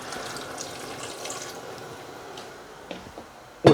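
Water and light soy sauce are poured into a pot of chicken, a soft, trickling stream running low and steady before a sharp clatter right at the end; no talking.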